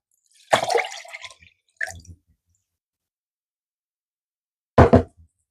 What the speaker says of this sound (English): I'm going to pour the liquid into the measuring cup.